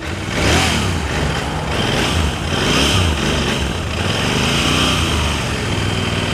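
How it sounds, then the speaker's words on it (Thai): A Royal Enfield Interceptor 650 motorcycle with stock exhaust revs up and down in repeated surges, the exhaust roaring loud and close throughout. "เดี๋ยวเราฟังเสียงท่อคันนี้กันครับผม"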